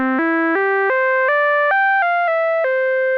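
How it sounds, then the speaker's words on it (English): A Roland System 100 modular synth played from a keyboard controller sounds a clean, bell-like melody of about nine distinct notes, loud and close, with nothing else around it. "And I can play it with this keyboard controller."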